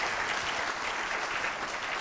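An audience applauds a pair of guests at an evening event, a continuous wash of many hands clapping at a moderate distance, steady from start to finish.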